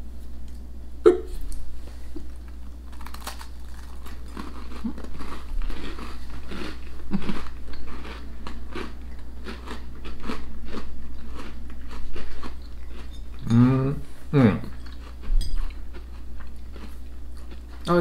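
Biting into a Fox's chocolate cream sandwich biscuit gives a loud, close crunch around the middle, then a couple of quieter chewing crackles, with faint steady background noise throughout.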